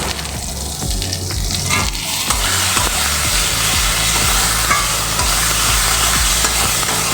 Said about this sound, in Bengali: যে মশলাটাকে এক মিনিট ধরে খুব ভালো করে আমি কষিয়ে নেব